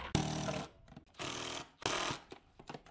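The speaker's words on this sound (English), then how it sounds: "I'm going to put these last screws in." Power-driven screws go in during a fibre-to-the-home drop installation, in three whirring bursts of roughly half a second each, close and fairly loud, with short pauses between them.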